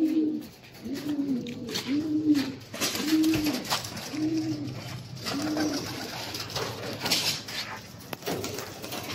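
Pigeons let out into the sun at a loft coo in a steady series of rounded, rising-falling calls, close and clear, followed by a quieter rustling stretch.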